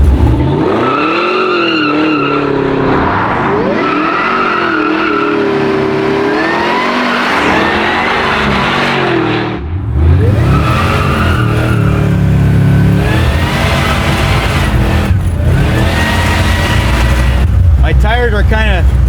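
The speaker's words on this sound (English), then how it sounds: "I can smoke the tires at this speed" A Whipple-supercharged Chevrolet Bel Air smokes its tires, with a loud, continuous engine roar and screeching tire squeal rising and falling throughout. A short dip comes near the middle, and excited voices talk over the noise.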